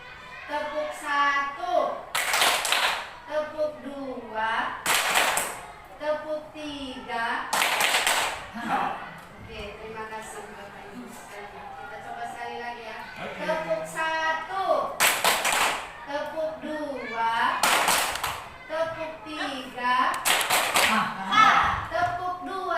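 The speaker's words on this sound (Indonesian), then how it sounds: "kita akan melakukan ice breaking, yaitu tepuk 1, 2, 3." A group of adults plays the Indonesian tepuk 1 2 3 ice-breaking clapping game, with sharp bursts of unison hand claps recurring between stretches of spoken and chanted voices throughout.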